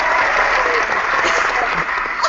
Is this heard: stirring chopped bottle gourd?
no